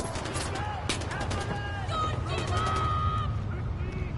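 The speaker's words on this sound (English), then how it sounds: "Where did that gunfire come from?" Bursts of gunfire in Far Cry 4 crackle amid shouting voices and chaotic effects during an avalanche, loud and busy throughout.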